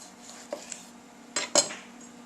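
A knife coring and halving tomatoes on a board gives a few sharp, close clicks and taps: a faint one, a brief pause, then two louder knocks in quick succession, with no talking.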